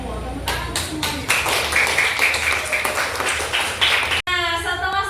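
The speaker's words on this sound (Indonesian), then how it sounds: "Tepuk tangan untuk semuanya." A class of students applauds together after group presentations, a dense, steady patter of many hands clapping close by at even loudness, with some voices mixed in underneath.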